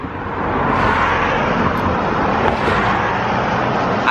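Steady broadband roar of traffic on a busy road, loud and close throughout with no distinct pass-by peaks, as cars stream past continuously without talk.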